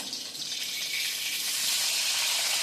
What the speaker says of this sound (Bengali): এক পিঠ আমার ভালোভাবে ভাজা হয়ে গেছে এবার আমি অপর পিঠটা ভেজে নিচ্ছি